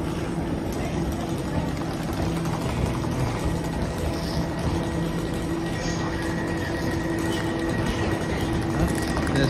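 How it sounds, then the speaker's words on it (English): An Elizabeth line train idles at Ealing Broadway platform before departing, a steady low electric hum and rumble holding at even loudness throughout, with faint hiss and no clear voices. "This is a train departing very soon."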